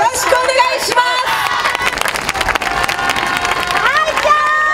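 Outdoor audience at a yosakoi dance event in Kawasaki applauding before a troupe performs, clapping mixed with loud crowd chatter, shouts and cheering voices, plus tonal whistle-like calls throughout.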